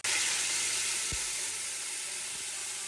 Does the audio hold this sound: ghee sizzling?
yes